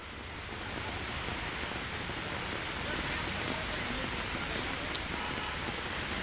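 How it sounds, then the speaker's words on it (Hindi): Steady rain falls in Goa, a continuous, even hiss that holds at a constant level from start to finish with no other sound standing out. "गोवा में बारिश बादल तो है ही"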